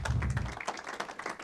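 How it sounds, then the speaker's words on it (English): Audience applause in a lecture hall as a professor walks to the podium, a brief burst of many hands clapping at moderate level, fading slightly over its short span. "we'll clap you as you come on."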